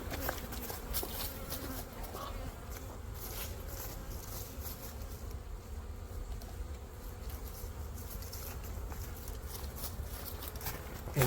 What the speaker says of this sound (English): So here's the frame with just a few bees on it